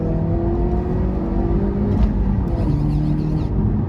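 A Honda CR-Z HPD Edition engine pulls hard through a corner, its steady droning note climbing in pitch, loud and close from inside the cabin with no talk over it.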